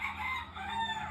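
A rooster crows once in a short, loud, nearby call with a wavering tone.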